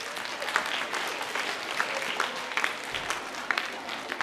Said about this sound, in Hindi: तो तालियां बजाएं लड़कियों के लिए एक बार।